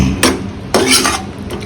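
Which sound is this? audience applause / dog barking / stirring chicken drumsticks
stirring chicken drumsticks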